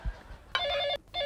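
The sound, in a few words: telephone ringing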